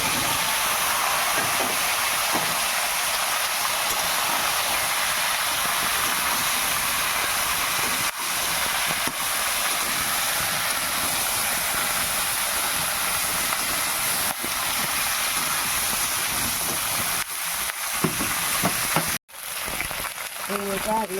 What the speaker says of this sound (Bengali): এই মশলাটা ভাজবে।